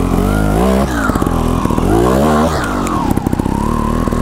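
A Gas Gas TXT 280 trials motorcycle revs sharply up and down in short bursts, loud and close, with the engine note rising and falling several times and no talking.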